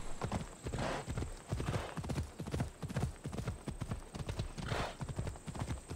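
Horse hooves clip-clopping in the Assassin's Creed Odyssey video game, a steady rhythmic gallop of close, loud hoof strikes repeating about twice per second, with occasional snorting breaths.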